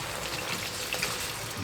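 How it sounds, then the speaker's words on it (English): A cup of water poured into a stew pot of braised oxtail with red wine, a short, quiet splashing trickle with no other sound. "Cup of water."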